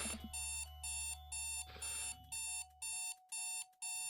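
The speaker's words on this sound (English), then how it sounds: "I jolt awake to sound of my alarm." An alarm clock rings in a repeating pattern of loud, bright electronic beeping bursts, each about a third of a second long, steady and close after a brief low hum at the start.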